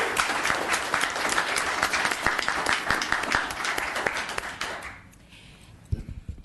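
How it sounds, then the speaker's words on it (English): Applause at a town council meeting in Los Gatos, with a room full of people clapping steadily for about five seconds before it fades, followed by a few faint shuffles. "So let's give Lucas a round of applause."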